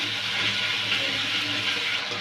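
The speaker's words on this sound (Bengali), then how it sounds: "একটু পানি দিয়ে দিলাম।" Water pours into a cooking pan holding green chillies and ginger-garlic paste for a potato and eggplant curry, a continuous close splashing and hissing with no breaks.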